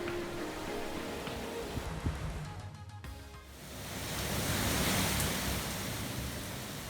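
Sea waves rolling onto the Peloponnese coast of Greece, a steady broadband wash that briefly dips and then swells into a fuller surge, heard alone without voices.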